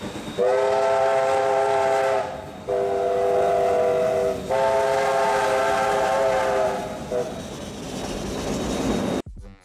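A heritage train rumbles past with a loud, multi-tone horn sounding in three long blasts, the clatter fading before an abrupt cut.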